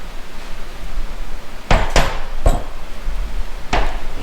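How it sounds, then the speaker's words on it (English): An engine cylinder head is flipped around on a workbench, giving four sharp metallic knocks against a faint background hiss, and no voices. "I'm gonna flip this head around"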